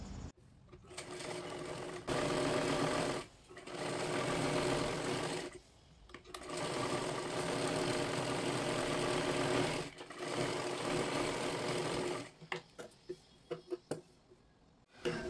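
A sewing machine stitches a blouse sleeve in several loud, close, whirring runs of a few seconds each with short gaps between them. Quick short bursts follow near the end.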